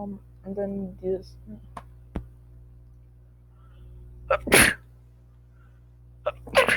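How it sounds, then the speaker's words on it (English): A person sneezes during a beginner cosplay and makeup tutorial: one sharp, loud sneeze in the middle, followed near the end by a second, smaller burst. Short spoken words come at the start, and the quiet gaps between are largely empty. "sorry if I sneeze in a weird way"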